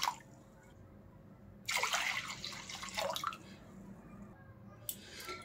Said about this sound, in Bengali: एखन दिए देब जल।